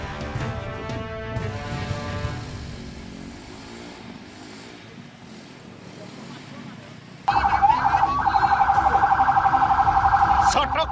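Fire engine siren stuck in dense carnival traffic in a village, blaring loud and repetitive after a stretch of crowd and engine noise with music, with voices around.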